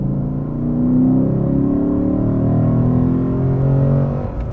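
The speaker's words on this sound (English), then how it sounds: "So we just heard that from the exhaust from the outside" A 2021 Lexus RC F Track Edition revving steadily to around 3,500 rpm, heard from outside, with a deep, droning exhaust rumble that rises and falls slightly, continuous and fairly loud.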